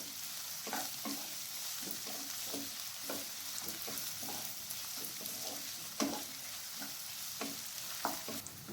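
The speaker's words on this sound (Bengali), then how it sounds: "পেঁয়াজটাকে আমি লাল লাল করে ভেজে নিচ্ছি।" Onions fry over high heat in a pan, a steady close sizzle broken by short scraping stirs about once a second, with no one speaking.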